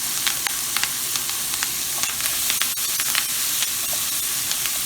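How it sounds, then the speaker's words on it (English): Chopped vegetables sauté in melted butter, giving a steady, dense sizzle with crackling pops and occasional stirring scrapes, close and loud with no talking. "Allow these to saute."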